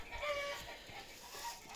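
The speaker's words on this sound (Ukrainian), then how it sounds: "то чого ж ви таки так розкуткудахкалися, кури?" Hens cackle in a brief, busy burst, a few bright calls over a low murmuring background.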